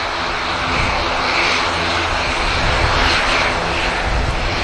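An Aer Lingus airliner departs Manchester Airport with a loud, unbroken engine roar that swells slightly over a few seconds, with no talking.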